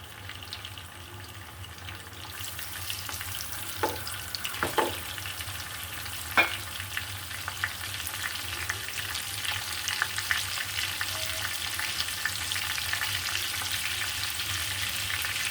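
Koi fish frying slowly in a pan, a soft continuous sizzle and crackle with a few sharp pops and utensil knocks, fairly quiet and without talk.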